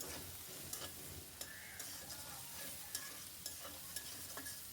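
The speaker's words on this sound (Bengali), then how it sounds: "পেঁয়াজটাকে আমি ভালো করে ভেজে নেব, খুব কড়া ভাজবো না, একটু রসালো রসালো থাকবে।" Chopped onions frying in oil in a pan for a Bengali curry, a soft continuous sizzle with faint scattered ticks of stirring, quiet and close.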